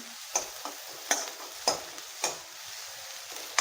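Onion frying in a pan, a steady close sizzle broken by regular spatula scrapes and taps about every half second, with no voices.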